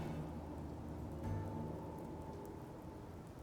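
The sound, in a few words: rain in video game Death Mark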